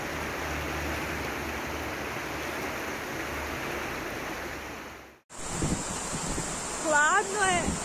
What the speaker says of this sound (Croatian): Ovo su slapovi kozice